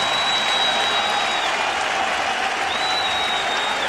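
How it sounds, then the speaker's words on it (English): A packed ballpark crowd and the New York Mets team applaud a home run, producing a continuous roar of clapping and cheering that fills the whole stretch. "The entire Met team standing on the top step of the dugout awaiting Mike and applauding"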